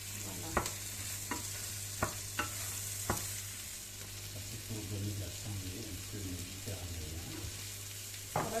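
Onions and garlic frying in a pan for homemade lasagne, a steady close sizzle broken by several sharp knocks of a utensil against the pan, then softer scraping and stirring, with no clear talking.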